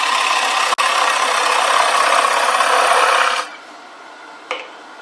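A wood lathe turns a birch bowl with a steady, loud whirring rasp of tool on wood. One sharp break interrupts it, and then the sound drops to a quieter spin-down with a faint bump near the end.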